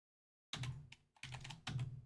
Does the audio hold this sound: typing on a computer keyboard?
yes